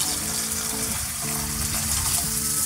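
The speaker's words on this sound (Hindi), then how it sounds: "अब इसमें 1 गिलास पानी डाल देंगे।" Water poured into chickpea masala frying in a pan for samosa chaat, giving a steady, loud broadband sizzle that hisses continuously throughout with no talking.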